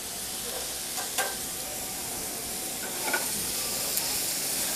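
Chorizo sizzling in hot oil in a pan, a loud, steady, bright hiss that runs continuously, with a few short crackles and pops.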